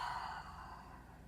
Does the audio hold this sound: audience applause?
no